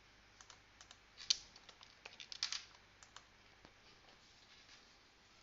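A password being typed on a computer keyboard: a short, quiet run of close key clicks, some taps a little sharper, with no one speaking.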